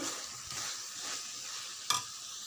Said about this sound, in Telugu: వేసి అన్నీ మంచిగా కలుపుకోవాలి.